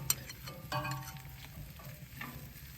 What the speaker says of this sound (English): So I'm just gonna fry up the onions.